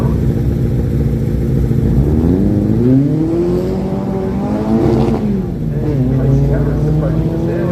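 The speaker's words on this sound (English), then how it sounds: "Brandon Flaxman on track now, the SR20 turbo-powered Datsun 1600." A turbocharged SR20-powered Datsun 1600 race car accelerates hard at a sprint start line, its engine note rising through the gears in a loud, continuous climb under an announcer's voice.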